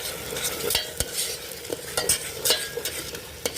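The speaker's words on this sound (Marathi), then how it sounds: "आता हे वाटण सगळं छान तुपामध्ये परतून घ्यायचं आहे" A spice paste of chilli, cashew and sesame fries in ghee with a steady close sizzle. A spoon stirs and taps the pan again and again in irregular knocks, and no one speaks.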